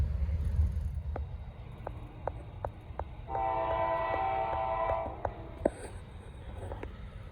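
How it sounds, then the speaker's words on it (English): A Norfolk Southern train rumbles past at a distance near Gaffney, its horn sounding a sustained chord, with rhythmic clacks of wheels over rail joints. "Might be the last train right here."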